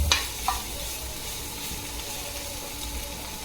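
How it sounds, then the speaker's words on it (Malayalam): Capsicum sautéing in a pan for fried rice gives a steady, soft sizzle throughout, with a couple of brief stirring clinks near the start and no talk over it. "നമ്മുടെ ക്യാപ്സിക്കം ഒക്കെ സോട്ടായി വരുന്നുണ്ട്."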